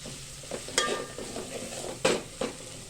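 Garam masala and coriander-cumin powder sauté in a pan with a quiet, low sizzle, while a spoon scrapes and clinks against the metal a few times.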